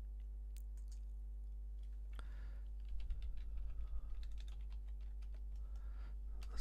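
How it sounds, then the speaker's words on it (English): Computer keyboard typing, a steady run of quiet close clicks over a constant low hum, growing busier halfway through. "let's just type it"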